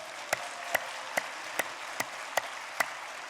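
A church congregation applauds the choir in seven sharp, evenly spaced claps, roughly two per second, moderately loud against a quiet room.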